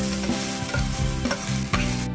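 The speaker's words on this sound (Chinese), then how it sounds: "师傅把配料跟饭拌在一起后，逐渐炒开，最后再慢慢炒出微微的焦香感" A chef stir-fries rice together with mixed ingredients in a hot pan, making a steady sizzle broken by rhythmic scraping and tossing strokes about every half second, close and fairly loud with no voices.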